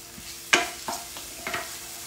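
Garlic sizzling in a pan while being stirred, with a few distinct scraping strokes over a soft, steady frying hiss.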